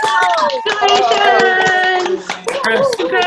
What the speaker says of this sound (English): Okay, unmute yourselves. And then cheer.